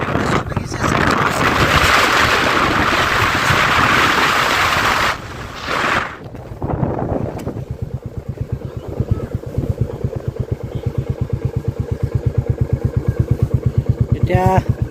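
A motorbike on a road trip from Diphu toward Hojai-Lanka, its engine loud and close with steady rumbling and wind buffeting, then settling into a lower idle as the bike is stopped; someone talks over it.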